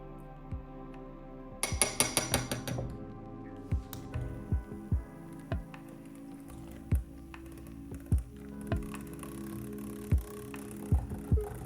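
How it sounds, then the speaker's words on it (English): Cosmetic ceramide face cream ingredients being stirred in a container: a steady series of soft, close clicks and taps, with a brief rattling flurry early on, and no talking. "After the mixture has cooled, I add phase C and mix until everything is well combined"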